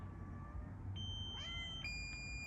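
A cat meows indoors, a few short tonal calls rising and falling over a steady low hum, close and moderately loud with no talking.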